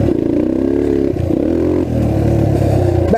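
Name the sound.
restored trail bike engine revving while riding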